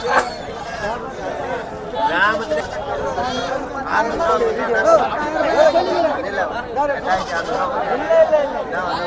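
Sheep and rams bleat repeatedly at a livestock market amid a busy crowd of overlapping voices and chatter, the animal calls rising through the steady background babble.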